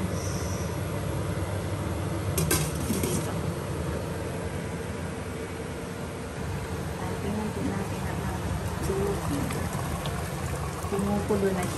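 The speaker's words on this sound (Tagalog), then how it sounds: "Kumukulo na siya." Water boils in a pot for soup made with violet flowers, giving a steady, close hiss and bubbling that runs the whole time with a few brief clinks.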